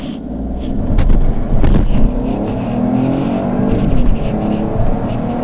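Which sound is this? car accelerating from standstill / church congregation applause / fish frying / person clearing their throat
car accelerating from standstill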